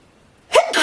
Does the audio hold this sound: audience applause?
no